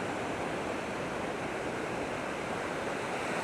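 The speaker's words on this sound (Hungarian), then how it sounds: "Megint jönnek a hullámok." Waves rolling onto a calm Costa Rican beach, a steady broad wash of surf that holds evenly throughout, moderately loud with no voices.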